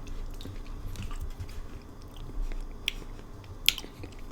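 A bite of Costco lemon yogurt is eaten close to the mic. Soft, moist chewing and squishing repeats through the clip, with a couple of sharper clicks, and nobody talks.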